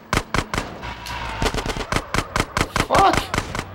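Rapid bursts of video game gunfire in GTA San Andreas, loud sharp shots in an uneven rhythm, about a dozen cracks in quick succession over a faint background of game sound.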